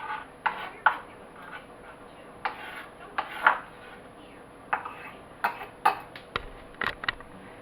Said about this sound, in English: My diced tomatoes, I'm chopping them up a little more.